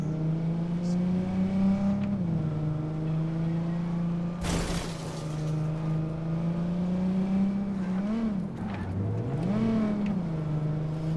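A car drives in the game Cyberpunk 2077, with a steady engine hum that swells and dips as it revs and shifts, plus a short whoosh mid-way, with no talking.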